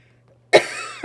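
A single sharp cough bursts out after a stretch of near silence, followed by a brief rough exhale and the start of another cough at the end.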